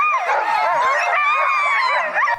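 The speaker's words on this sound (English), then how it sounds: "we were welcomed by a singing throng of husky dogs" A throng of husky dogs at a sled-dog camp in the Arctic Circle yelps, howls and barks together in a loud, continuous chorus up close.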